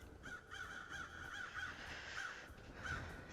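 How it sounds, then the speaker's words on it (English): Repeated crow caws from a video game sound effect in Paradise Killer, several harsh calls spaced irregularly over a steady ambient background, moderately loud and close, with no talking. "for the first time, a crow sound effect actually has crows near it"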